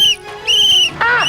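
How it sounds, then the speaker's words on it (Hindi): Three shrill whistle blasts at close range, steady high tones with short gaps between, the last wavering and cut short. "देखा 3 बार सीटी बजाई"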